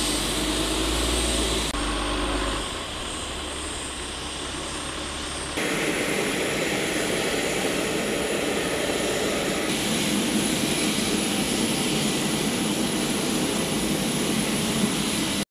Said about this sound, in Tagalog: paglapag ng kanilang mga C-130J Super Hercules mula sa Clark Air Base patungong Palawan